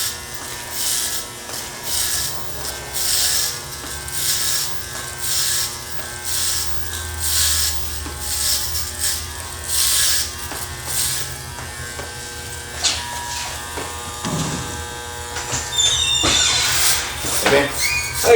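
Electric hair clippers with a 1.5 blade buzz in repeated passes while cutting a flattop, a steady close-up whir that rises and falls with each stroke, with soft talk and some clatter near the end.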